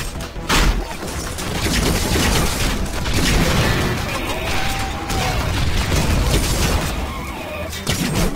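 Heavy bursts of gunfire from friendly soldiers in a video game, shots cracking and booming almost without pause, close and loud, with metallic mechanical clatter mixed in.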